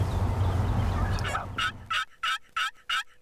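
A wild turkey gobbler gobbles in open country near CRP fields, five loud, rattling bursts coming in an even rhythm after a rumbling, noisy start.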